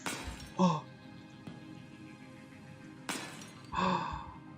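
Glass object shattering in the Escape Simulator game, a laboratory escape room: two separate breaking crashes, the first short and the second longer, each standing out over a low steady background hum.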